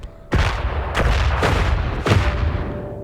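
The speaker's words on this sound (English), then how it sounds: "with the explosion from the planet apocalypse" Explosions from the planet apocalypse in the Worbital video game on Xbox One: a string of loud, booming blasts, about four or five sharp hits roughly half a second apart, each with a roaring tail that fills the space between them.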